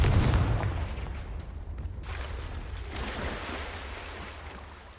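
Confringo fire spell blast in the video game Hogwarts Legacy: a deep booming impact at the start that fades into a long rumbling, rushing decay with no voices.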